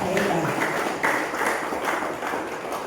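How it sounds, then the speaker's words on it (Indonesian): Crowd applause at a Christmas celebration for a vocational high school in Nabire, a dense, steady clapping filling the hall with voices mixed in and no pauses. "Tepuk tangan sekali lagi"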